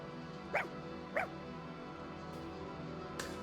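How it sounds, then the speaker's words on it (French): A dog in the Fire Emblem Engage video game gives two short, clear barks about half a second apart, followed later by fainter yips, over quiet game background ambience. "C'est un chien? On a un chien. Un autre chien en plus."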